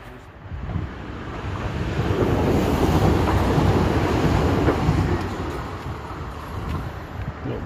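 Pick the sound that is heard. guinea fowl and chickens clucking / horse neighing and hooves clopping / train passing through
train passing through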